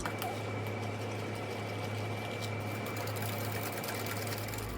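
An electric mixer beats raspberry bar batter with vanilla, a steady close whirring hum that runs unbroken at even loudness from start to finish, with no talk.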